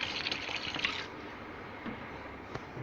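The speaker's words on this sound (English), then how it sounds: "This half liter of alcohol I just poured." Alcohol splashes as it is poured into a homemade hand sanitizer mix: a short, bright trickle for about a second, then near silence with faint small knocks.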